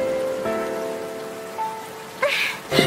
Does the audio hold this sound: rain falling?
yes